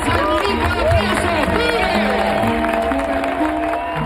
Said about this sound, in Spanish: Del aplauso más fuerte que se escuche. Comienza el bonito aplauso.